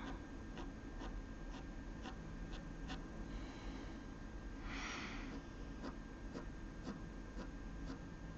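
Coloured pencil strokes across paper while layering fur on a drawn ear, a quiet, steady scratchy rubbing with faint repeated ticks, close and soft with no voices.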